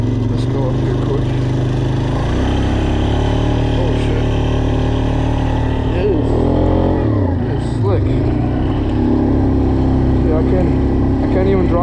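A Polaris Sportsman ATV engine runs continuously as it drives through slick wet snow beside a flooded river, a loud steady drone with shifting pitch as the throttle changes.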